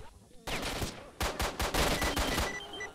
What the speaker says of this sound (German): Sterbt und fresst Munition.